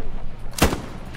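A single sharp sniper rifle shot from the Hell Let Loose video game, set on Omaha Beach, cracks loudly and briefly over a low, rumbling battlefield background.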